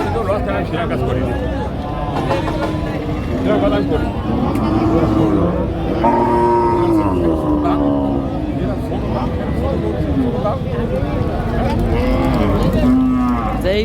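Cattle at the Saat Mile cattle market, cows for fattening sold amid price bargaining, moo loudly and repeatedly over a constant hubbub of crowd voices and background traffic.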